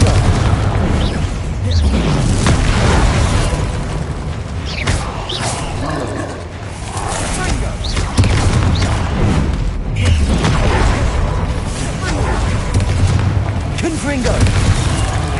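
Explosive Confringo spell blasts go off repeatedly in the video game Hogwarts Legacy, with booming bursts and rumbling impacts over game music, while a voice keeps calling out spells throughout.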